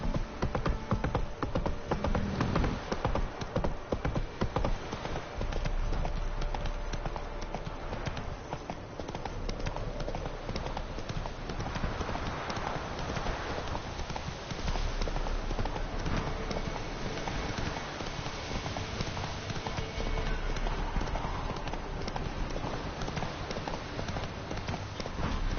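Horse hooves galloping in the video game Witcher 3, a continuous rapid clip-clop of hoofbeats running throughout at steady volume, with faint buzzing ambience behind and no talking.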